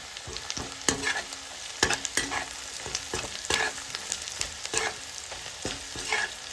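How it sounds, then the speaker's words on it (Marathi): A spoon stirs turmeric into onions frying in a pan for kanda poha, giving steady scraping strokes over a constant soft sizzle, fairly close, with no talking. "आपण ह्यामध्ये आता टाकणार आहोत अर्धा चमचा हळद आणि व्यवस्थित मिक्स करून घेणार आहोत"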